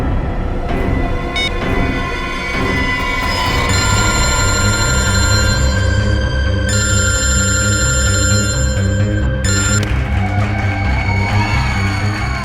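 A mobile phone rings loudly in an electronic tone that repeats steadily for about twelve seconds, set in a tense crime-investigation scene with a busy background underneath.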